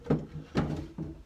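A drawer in a quilting nook slides open with a few close wooden knocks and scraping bumps, three short thuds in quick succession, with no talking.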